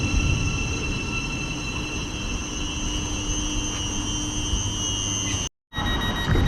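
Class 700 train pulling out of Stevenage station, a steady loud rumble with a sustained high electric whine running throughout and a brief dropout near the end.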